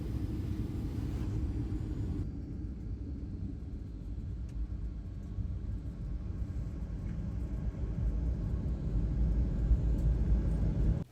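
An airliner landing and taxiing toward the terminal at Las Vegas produces a steady, heavy low rumble of engines and rolling that continues unbroken and fairly loud, with no talking.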